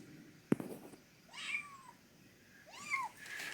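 A cat meows twice at a window screen, each a clear rising-falling call about a second apart, close by, after a brief sharp knock.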